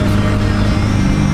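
A Honda CBR 125 motorcycle engine revs loud and close, a dense, steady high-rpm drone with a brief burst at the start and no talking.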